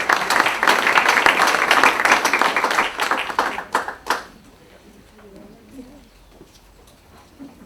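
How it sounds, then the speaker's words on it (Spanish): Audience applause for a group at a community session on emotional support in emergencies, dense clapping for about four seconds that cuts off abruptly, leaving quiet room noise with faint voices. "Un aplauso para ustedes."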